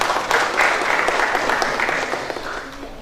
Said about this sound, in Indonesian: Tepuk tangan untuk Bapak Panewu.